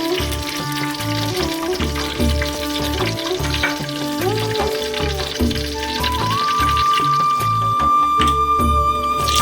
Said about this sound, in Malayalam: കടുക് പൊട്ടുമ്പോൾ